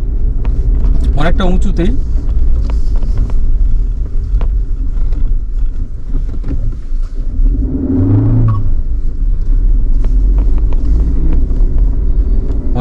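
A car climbs a narrow mountain road in Ladakh, giving a steady engine rumble and road noise throughout, with a person speaking briefly over it.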